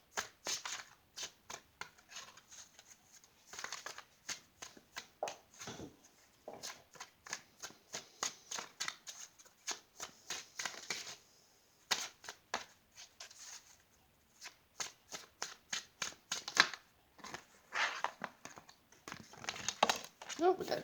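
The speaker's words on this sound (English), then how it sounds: "I know it takes a while to shuffle sometimes" Tarot cards being shuffled by hand, a long run of crisp, rapid riffling and flicking bursts that repeat in quick irregular clusters, fairly close and moderately quiet, with short pauses between rounds.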